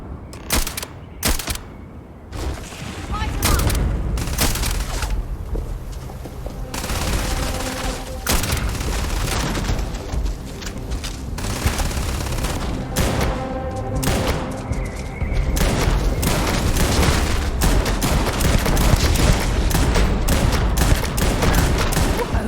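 Rapid, dense gunfire from the video game Starfield, with loud overlapping bursts and heavy booms that barely let up for the whole stretch.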